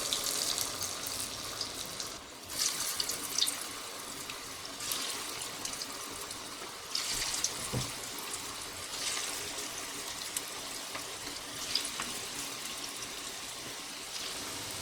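Pakora mixture dropped in small portions into hot oil, giving a steady, dense sizzle and hiss that carries throughout, with brief swells as fresh batter goes in and no talking.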